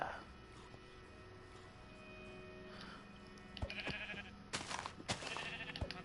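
A sheep bleats a few times in Minecraft, fairly close, with clicks and faint background sound around it.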